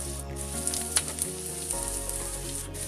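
Onion, ginger, green chili and garlic sautéing in a pan for soya manchurian, a close, bright continuous sizzle with small crackles and a brief stir partway through.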